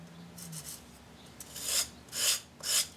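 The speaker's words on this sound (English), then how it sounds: "I'm just kind of doing a bit of a scrape, little light pressure." Light, rasping scrapes of a tool being sharpened on a ceramic sharpener, several slow strokes that grow louder and longer toward the end.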